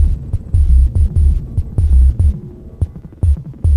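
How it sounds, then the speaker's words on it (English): A Dreadbox synth fires short, random percussive hits: deep thumping pulses and sharp clicks with brief gaps between them. The bursts are loud and close, with an uneven, stuttering rhythm. "Next, I'm gonna make some random percussive sounds using this Dreadbox synth."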